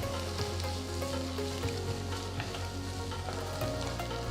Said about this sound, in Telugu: ఇప్పుడు రఫ్గా కట్ చేసిన రెండు మీడియం సైజ్ టొమాటోలు వేసి కలపాలి